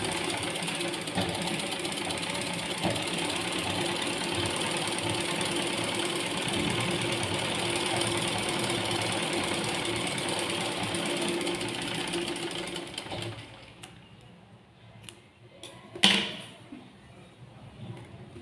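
A sewing machine stitches a straight seam along a half-inch blind tuck, running steadily and fairly loud for about thirteen seconds, then stopping, followed by a brief clatter and quiet.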